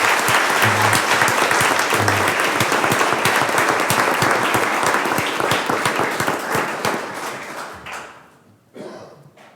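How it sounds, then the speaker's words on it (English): Audience applause fills a school board of education meeting room honoring a student, steady dense clapping for about eight seconds before tapering off, with a brief final burst. "a great big round of applause"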